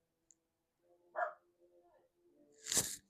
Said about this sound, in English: so I feel like that's my dog. He's barking right now.